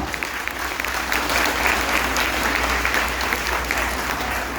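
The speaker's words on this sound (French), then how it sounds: "Applaudissez-les plus fortement." Parents and guests at a graduation ceremony keep up thick, loud applause for the graduating students. The sustained clapping stays even, with a constant low hum beneath it.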